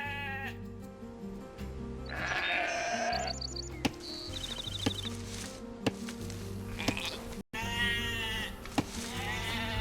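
Sheep bleat repeatedly in Age of Empires II: Definitive Edition, played on Xbox Series X, heard over game music with chimes and small interface clicks.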